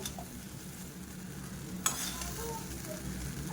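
Cooked rice being stirred and fried in a pan with fried onion and turmeric, giving a soft steady sizzle with scraping stir sounds and one sharper clack partway through.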